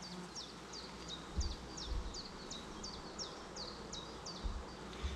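Young honeybees buzz in an open hive, a soft continuous hum with repeated high chirping tones layered over faint background rumbles.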